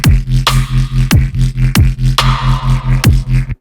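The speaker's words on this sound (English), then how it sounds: "this is what the top bass sounds like" A gritty, distorted synth top bass made in Ableton Live's Operator pulsing rhythmically over loud halftime kick and snare hits, its buzzy upper harmonics filling out the groove.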